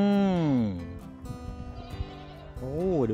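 Young goats at a goat farm kept on a raised wooden house bleat loudly and nearby, one long wavering bleat, then a pause with soft rustling, then another quavering call.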